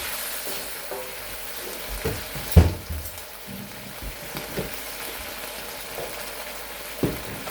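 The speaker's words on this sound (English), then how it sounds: "All right, so we're going to add a little gravy." Shrimp and zucchini stir fry sizzling steadily in a hot pan as gravy is added, with a few stirring knocks and scrapes over the constant frying hiss and no talk.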